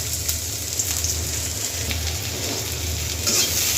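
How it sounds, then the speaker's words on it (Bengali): Chopped onion sizzles in hot oil with dried chillies in a wok for a Bengali lentil dish, a steady, close crackling fry with occasional stirring scrapes and no voices. "এবার পেঁয়াজটা একটু ভেজে নেব।"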